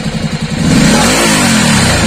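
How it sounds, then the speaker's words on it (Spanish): A motorcycle engine revving up as the throttle is opened, a loud close low rumble that climbs from a lumpy idle into a sustained higher roar. "Vamos a escuchar el encendido de la moto."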